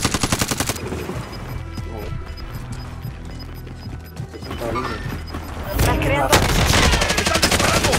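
Loud, rapid automatic gunfire bursts in the video game Warzone, with rattling machine-gun strings close by and a heavier volley near the end, with brief speech in the background.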